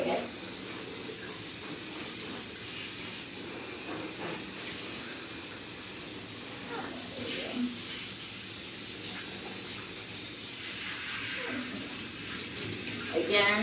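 Water runs steadily from a tap while a dog is bathed, a continuous hissing spray with occasional splashes and soft handling noises.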